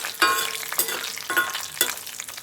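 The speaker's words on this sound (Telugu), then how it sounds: "ఇది కొంచెం నూనెలో వేగాలన్నమాట" Sundakkaya pulusu ingredients sizzle in hot oil in a pan, a steady bright crackle with periodic louder bursts as the mixture is stirred, close and continuous without talk.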